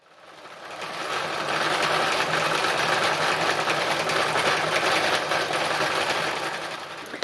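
A sewing machine stitches a fabric flower in one steady, continuous run, its motor whirring close and fairly loud, ramping up at the start and easing off near the end, with no talking.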